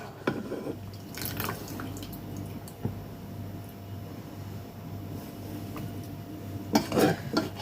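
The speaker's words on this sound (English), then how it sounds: "I'm going to drain all of the pasta from the water and just scoop that straight into my bowl." Cooked pasta being drained from its water into a bowl in a home kitchen, with splashing, dripping water and light clinks of a pot and utensils, fairly close with steady background noise.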